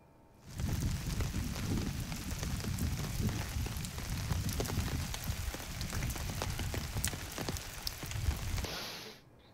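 Heavy rain pours steadily onto surfaces during a storm in Telangana's Warangal and Khammam districts, a loud, dense, continuous roar with scattered drop splashes, heard alone for about nine seconds before fading at the end.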